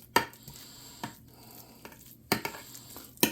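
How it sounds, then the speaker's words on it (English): Potato casserole mixture is scraped and spread into a casserole dish, with a few sharp utensil scrapes and taps against the pan spaced over a quiet background. "we're just going to dump that into our casserole dish. And we're going to spread it out in the pan."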